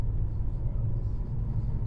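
A taxi driving before dawn gives a low, steady engine and road rumble heard from inside, faint and even over the short stretch, with no speech.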